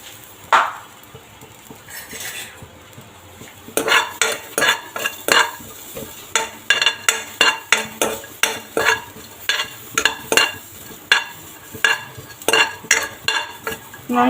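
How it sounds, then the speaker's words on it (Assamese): Garlic and ginger fry in a nonstick kadai while a utensil scrapes and taps the pan in a rapid, rhythmic series of clinks over a low sizzle, close and loud, with no talking. "আৰু এতিয়া মই ইয়াতে দি দিম কাটি লোৱা নহৰু আৰু আদা। এইখিনি অকণমান ফ্ৰাই হ'ব দিম।"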